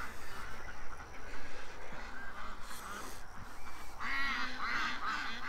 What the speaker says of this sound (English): You probably were watching the ducks drill.